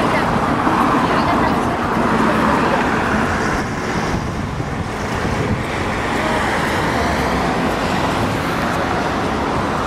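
London city traffic of cars, taxis and double-decker buses makes a continuous loud roadway rumble with broadband hiss and some wind buffeting on the microphone, steady throughout with no distinct individual passes.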